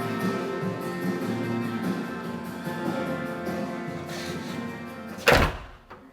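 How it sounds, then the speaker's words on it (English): An acoustic door on a cabin swings shut with a single solid thunk near the end, following a stretch of loud music with a steady drone. "Let's see what acoustic doors do."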